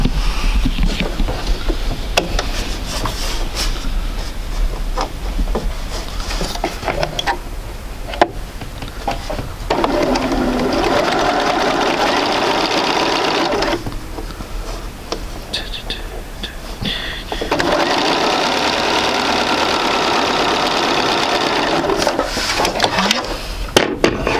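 A sewing machine runs a quarter-inch seam through quilting fabric in two sustained whirring stretches, with quieter handling, ticks and fabric shuffling before and between them.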